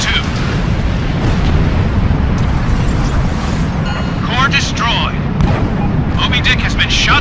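Heavy explosions and rumbling blasts as the aircraft Moby Dick is shot down in the Ace Combat Infinity air combat game, dense and loud throughout, with crackling bursts layered over a constant low roar.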